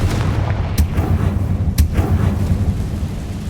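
In the Hogwarts Legacy video game, the Confringo fire-blast spell sets off loud, rumbling explosions, a continuous deep roar broken by two sharp cracking blasts close up.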